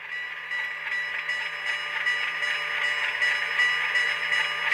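A Rapido HO-scale RS-11 model locomotive with LokSound decoder rings its bell steadily and continuously, a bright metallic clang repeating at an even pace over a quiet background hum, fairly close and alone.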